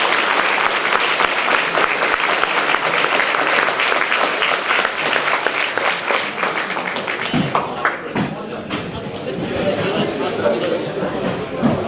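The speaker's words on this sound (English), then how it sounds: "Final round of applause for all of our speakers" A debate audience gives a final round of applause for all the speakers at a religion debate. Loud, dense clapping fills the room, then thins out and gives way to crowd chatter and voices.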